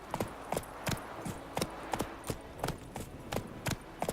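Roach the horse's hooves in The Witcher 3, a steady rhythmic clip-clop of about a dozen evenly spaced strikes at a trotting pace, fairly quiet and close, with no voices.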